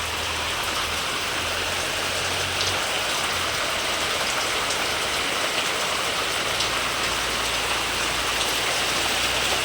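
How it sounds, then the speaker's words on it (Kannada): Steady rain falls outdoors, a continuous broadband hiss of drops on surfaces that stays even and fairly loud throughout, with no voices. "ಹೊರಗಡೆ ಮಳೆ ಬರ್ತಿತ್ತಾದ್ರಿಂದ"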